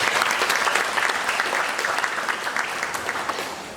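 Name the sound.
audience applause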